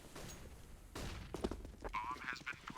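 Gunfire in a Counter-Strike match on the Inferno map at a LAN finals, with a few sharp bursts of shots amid busy in-game noise, loud and close.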